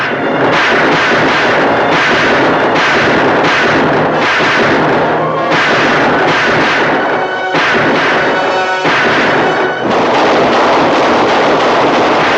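Dense, loud gunfire and artillery-like blasts from a battle scene in a 1951 western film, continuous booming and cracking with no pause.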